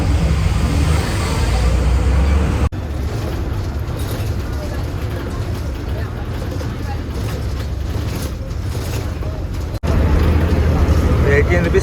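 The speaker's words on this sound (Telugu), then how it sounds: "మనం వెళ్ళాల్సిన బస్సు వస్తుంది వైకోమ్ది" Interior of a Kerala bus on the way to Vaikom, with a steady loud engine and road rumble throughout and brief cuts; people talk faintly beneath the drone.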